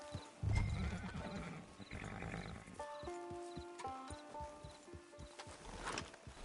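A horse in Red Dead Redemption 2 lets out a loud neigh, followed by a steady run of clip-clopping hooves and tack sounds against a faint ambient background.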